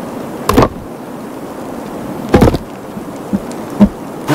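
Bees in the video game Sons of the Forest, heard as a few short, loud buzzing bursts separated by quieter ambient noise.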